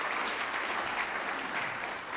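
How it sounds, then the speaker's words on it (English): Audience at a city volunteer recognition event applauds tree-planting volunteers, with a brief, steady burst of many hands clapping at even loudness. "Yes, yeah, applaud the tree planting."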